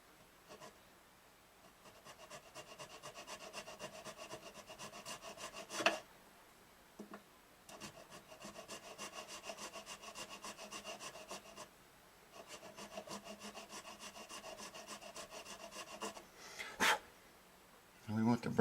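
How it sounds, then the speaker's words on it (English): Metal file rasping across the nut of a Martin D28 guitar in repeated bursts of quick scraping strokes, each run a few seconds long, separated by short pauses with brief knocks and handling sounds, close and fairly quiet. "I'm filing the same angle that the headstock is"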